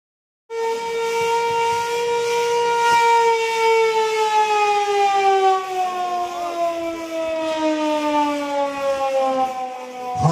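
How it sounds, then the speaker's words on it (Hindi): A civil defense air raid warning siren sounds during a drill in Ghaziabad, a loud, sustained wailing tone that starts abruptly and slowly sags in pitch over about ten seconds, alone with no talking. "हवाई हमले का धीमी आवाज में सायरन बजता है।"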